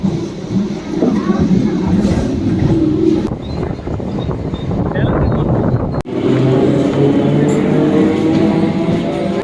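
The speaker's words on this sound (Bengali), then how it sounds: "এই ট্রেনে যাচ্ছি আমরা গুমা।" A local train runs from Habra toward Guma station with a loud, steady rumble and grinding wheel noise that swells again after a brief dip, while people talk in the background.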